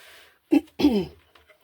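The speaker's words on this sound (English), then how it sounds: "I have to clear my throat a bit" A person clears their throat in two short, rough bursts, close and fairly loud, then quiet.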